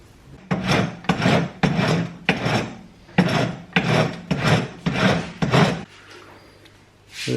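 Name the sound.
filing down a motorcycle clutch spacer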